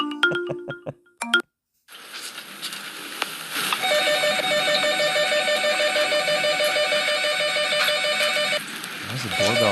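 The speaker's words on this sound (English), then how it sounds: "Why does the doorbell sound like a phone?" A doorbell with a telephone-style ring trills repeatedly in a steady electronic warble, clear and fairly close, after a few brief noises and a short silence at the start.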